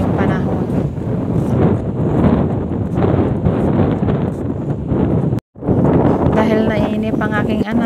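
Strong, steady wind gusts across a beach in bad weather, a broad roaring rush that buffets the microphone throughout, with a brief dropout near the end before the blustery noise resumes.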